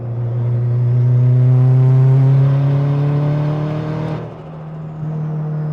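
A turbocharged 8th-generation Honda Civic accelerates hard in third gear, its loud, close engine drone rising steadily in pitch before dropping off sharply near the end.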